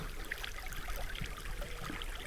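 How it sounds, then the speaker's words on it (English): River rapids rushing steadily behind the listener, a continuous broadband wash of flowing water at moderate distance with no speech over it. "That's the rapids that you hear most of the time."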